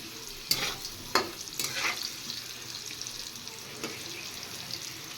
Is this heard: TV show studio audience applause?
no